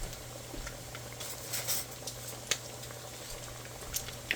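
Italian sausage soup simmering in a pot on the stove, a soft steady bubbling and popping that stays low and even throughout, with a few slightly louder pops near the end.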